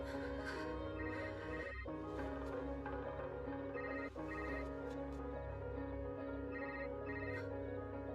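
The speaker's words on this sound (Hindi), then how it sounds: "कौन इतनी रात को फोन कर रहा है तुम्हें?" A telephone rings at night in steady, repeating electronic chimes, fairly loud and continuous, with no voices over it.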